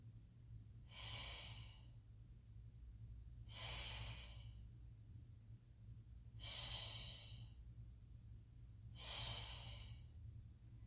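Four heavy, breathy breaths spaced about three seconds apart during a Pilates mat exercise, close and distinct over a low steady hum, with no talking between them.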